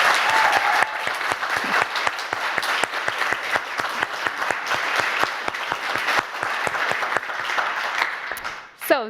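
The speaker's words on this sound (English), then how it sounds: "So the biggest and last applause of the day for you." Audience at a hybrid industry panel on documentaries and young people giving a long, steady round of applause, many hands clapping evenly for about nine seconds before it fades and breaks off.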